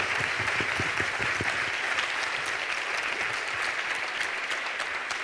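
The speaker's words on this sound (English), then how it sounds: "So, Lan Yueting, yes, big applause." Festival audience applauding at a film festival stage event, a dense steady wash of clapping from a large crowd, loud and continuous throughout.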